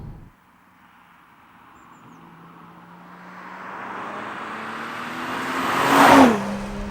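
BMW M340i Touring xDrive with its B58 engine accelerating, a steady rising engine drone that swells gradually and peaks near the end before easing slightly, heard from inside the car.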